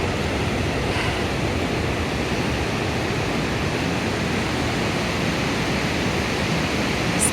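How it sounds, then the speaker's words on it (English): Vernal Falls in Yosemite roars as a steady, dense broadband rush of falling water, loud and constant throughout, with no voices. "It's the waterfall."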